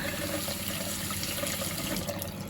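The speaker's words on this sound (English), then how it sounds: "water leaking out of here means that water is getting up in there" Water running and trickling from a leaking tap under repair, a steady close wash of flowing water through the whole stretch with no voices.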